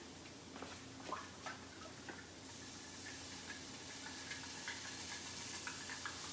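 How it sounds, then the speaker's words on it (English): A steady, quiet sizzle and hiss from beef stock and water deglazing a hot pan after browning oxtails, with faint ticks and crackles scattered throughout. "you can probably hear that sizzle"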